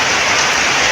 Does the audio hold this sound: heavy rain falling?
yes